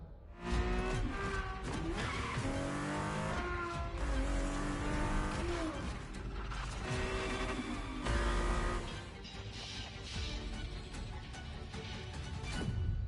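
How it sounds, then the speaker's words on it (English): A Ferrari F50 races in The Crew Motorfest during its Ferrari-themed season. The engine revs loudly and continuously, rising and falling through gear changes, with tires squealing and skidding. "The Ferrari F50, a bridge between road and racetrack."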